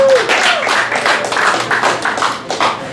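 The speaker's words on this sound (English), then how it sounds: "how about you give a hand for your host?" A comedy-night crowd at Cafe Diem in Richmond, Virginia claps for the host: a short, fairly loud burst of scattered hand claps, with a bit of room tone behind.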